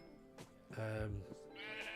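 Sheep bleating in the Minecraft video game, one wavering bleat in the middle with a thinner second call at the end, fairly quiet.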